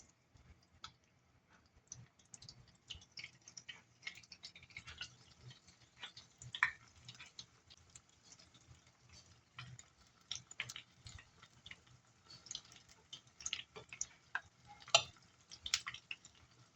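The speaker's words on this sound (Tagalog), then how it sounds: "Ayan guys, iprito na natin siya. Hanggang ma-brown." Tofu puffs frying in oil give a faint, steady crackle and sizzle with small irregular ticks and pops throughout.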